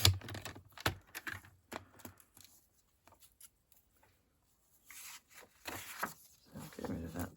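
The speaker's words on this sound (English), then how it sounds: "let's just cut that end off" Patterned paper being cut at one end, heard as quiet, close, scattered snips and rustles with short pauses and a brief silent stretch in the middle.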